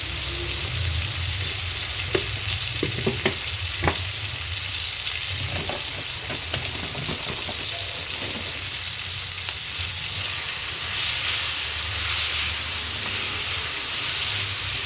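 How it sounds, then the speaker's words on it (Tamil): Masala and tamarind fry in a pan for brinjal curry, giving a steady, close sizzle and hiss with scattered small stirring clicks and scrapes, and the frying swelling louder near the end. "இப்போ நம்ம சேர்த்த மசாலா எல்லாமே வந்து நல்லா ஃப்ரை ஆகிடுச்சு"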